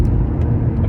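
A four-cylinder car engine rumbles steadily as it accelerates, a low continuous drone close by with no voices over it.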